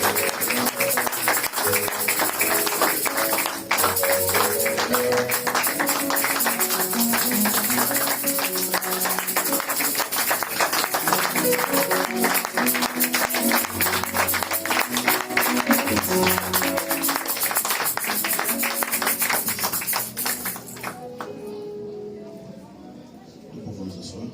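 A church congregation applauds and cheers to welcome the pastor with dense, sustained clapping. The crowd noise stays steady and loud under a voice, then drops away abruptly near the end.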